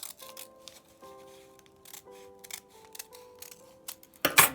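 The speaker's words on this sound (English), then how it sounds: "I'm going to trim this along the way, taking care not to cut on those folds that I've done." Scissors trim folded paper for a star decoration with a run of quick, crisp snips close by, irregular cuts spread over a few seconds, ending in a louder rustle of the paper being handled.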